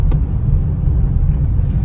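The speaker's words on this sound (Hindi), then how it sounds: "अभी भाई चला रहे हैं गाड़ी" A car driven by a learner fills the cabin with a steady low engine and road rumble, continuous and close, with no talking over it.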